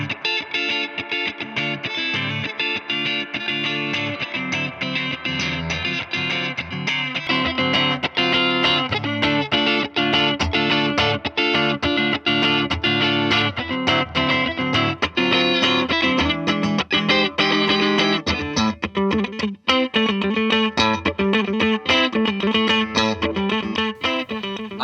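Electric guitar through a Mesa/Boogie amp on channel 1 with the fat setting, played as a dense, continuous run of distorted chords and riffs that stays loud and steady for the whole stretch, with no talking.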